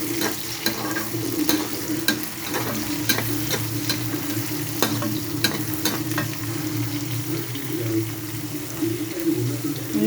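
Onions fry in hot oil with a continuous close sizzle, broken by frequent sharp crackles and pops throughout.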